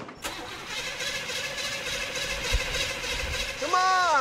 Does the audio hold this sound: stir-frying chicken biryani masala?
no